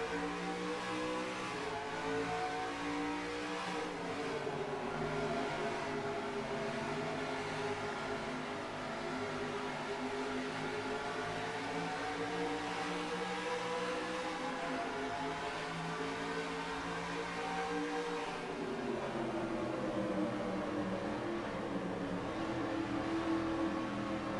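Engines of several NASCAR stock cars roar and rise in pitch as the field accelerates at the green flag at Milwaukee in NASCAR Racing 2003, a dense, continuous in-car drone with shifting harmonics and no talk.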